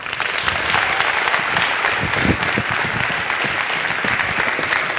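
Steady, full applause from a Tijuana conference audience welcoming journalist Alejandro Cacho, dense and continuous clapping with a few louder bursts, heard alone without speech.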